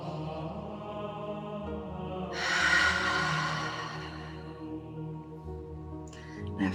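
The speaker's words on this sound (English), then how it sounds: "Breathing in through your nose." A close nasal inhalation rises into a loud, rushing sniff through the nose lasting over a second, then eases off, over a steady low musical hum, with a short breathy sound near the end.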